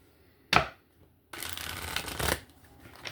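Cards riffle once in a brief crisp burst, then a longer shuffle rattles for about a second before fading into quiet.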